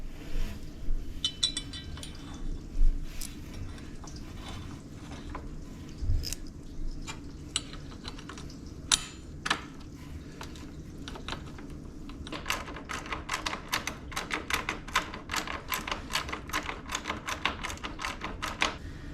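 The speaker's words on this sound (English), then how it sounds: "with the ratchet, I was able to get them" Ratchet tightening bolts on an aluminum crash bar bracket of a Yamaha Tenere 700 motorcycle, with quick bursts of fast, light clicking that grow denser toward the end over a low background hum.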